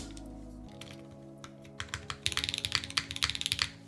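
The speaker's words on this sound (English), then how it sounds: "I want to see a cherry switch in the spacebar too, just to see what it sounds like." Mechanical keyboard with a Cherry switch fitted in the spacebar on a 60% board, typed in a quickening run of crisp, close clacks and thocks after a quiet start, no talking.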